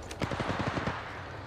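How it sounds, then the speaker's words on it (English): A rapid burst of automatic gunfire rings out in Apex Legends Mobile, about eight sharp shots in quick even succession followed by a brief fading tail. "Yeah, getting shot at."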